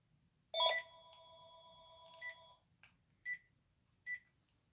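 An old landline telephone sitting close by in a quiet room gives a short electronic ring, followed by a few fainter separate beeps with pauses between them, and nobody talks.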